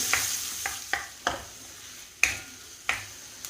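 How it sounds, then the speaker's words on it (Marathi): Onions sauté in a pan with chilli pieces for a dried bombil and fenugreek dish. A spoon scrapes against the pan every half second or so in sharp, spaced strokes over a low sizzle, and there is no talk. "कांदा घातल्यानंतर थोडा वेळ आपल्याला परतून घ्यायचा आहे"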